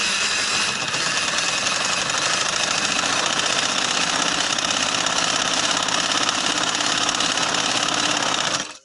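A sewing machine runs steadily at full speed, doing double stitching on cloth for a full-sleeve winter garment. The dense, even whir stays loud and close before stopping abruptly at the end, with no talking.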